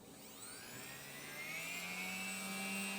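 A small powered crafting rotary tool switched on, spinning up with a high, rising whine that steadies into a continuous buzzing hum, close and fairly quiet.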